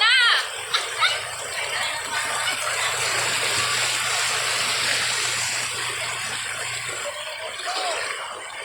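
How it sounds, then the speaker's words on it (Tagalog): Strong rushing floodwater fills the scene with a steady broadband roar, like a swift current, with brief bits of voices near the start and end. "Malakas ang agos."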